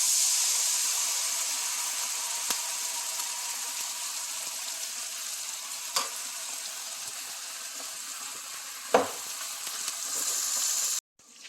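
Onions frying in a pan as spices and pasta sauce go in: a steady, even sizzle throughout, broken by a few soft clinks and stirring scrapes, one louder knock near the end.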